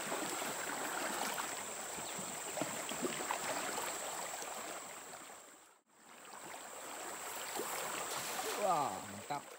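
River water rushing and lapping around a boat travelling on the Pingas River, a continuous broadband wash with a steady high hum, dipping briefly midway, with faint voices toward the end.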